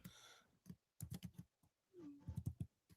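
Computer keyboard typing during a live chat show: quiet bursts of quick clicks with brief pauses, plus a short tonal sound partway through, no clear speech.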